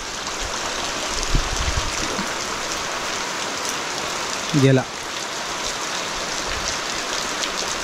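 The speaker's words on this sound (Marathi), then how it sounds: "गावात आता असाच पाऊस पडतोय" Steady rain pours down in a village forest beside a stream in the Konkan countryside, a continuous even hiss throughout, with one brief voice near the end.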